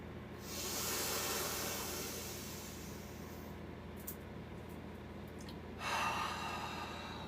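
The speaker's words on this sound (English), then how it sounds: "3 rounds of breath" Slow, deep breathing exercise breaths taken during a yoga alignment session. Long airy inhales and exhales rush steadily and fairly close, with a stronger gust near the end and no talking.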